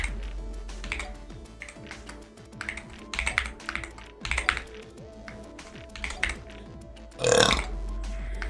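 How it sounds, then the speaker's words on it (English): A loud, drawn-out burp bursts out near the end, close and alone, after several seconds of soft clicking keyboard typing from a streamer's desk. "That was a pretty good burp. Monstrous in size."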